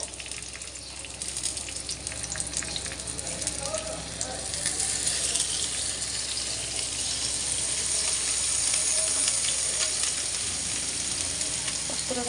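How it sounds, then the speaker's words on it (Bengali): Fish and bitter gourd leaf patties fry in hot oil, a steady close sizzle with faint crackles throughout and no speech. "তেলে ভেজে নেব।"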